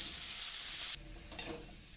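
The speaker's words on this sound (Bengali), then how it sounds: "তো আমগুলোকে তেলের মধ্যে দিয়ে আমি বেশ একটু নাড়াচাড়া করে নিলাম।" Raw mango pieces hit hot oil for a sweet-and-sour pickle, giving a loud, bright sizzle for about a second before it drops sharply. A softer frying hiss follows, broken by one stirring scrape.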